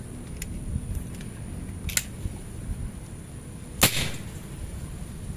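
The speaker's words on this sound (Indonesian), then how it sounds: "Tembakan kedua" Single sharp crack of a Predator SS-38 PCP mini air pistol firing a pellet, one brief broadband report near the four-second mark over low background rumble, with a couple of faint clicks earlier.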